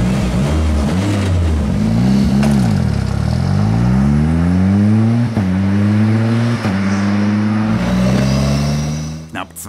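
Radical SR3 SL race car from 2013, a light open track car of about 250 hp, revs loud and close, its engine note climbing in repeated rising sweeps through the gears and ending in a sharp high whine, with talk over it.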